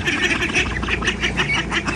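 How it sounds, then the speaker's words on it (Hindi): Many ducks quack loudly and continuously close by, a dense overlapping chatter of calls. "कितने बड़े बड़े हो गए हैं ये बतखें"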